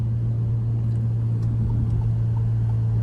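Engine of an Alfa Romeo Giulia in full race mode with a Madness GoPedal throttle tuner, a steady low hum at light throttle, loud and close, with no voices.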